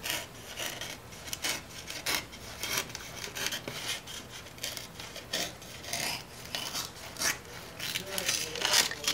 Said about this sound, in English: I'm going to stand this piece up and I'm going to cut a bevel going from the top to the bottom.